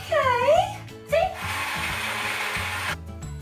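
A small hand blender whirs steadily through breadcrumbs for a couple of seconds, loud and close, with brief bits of talk just before it starts.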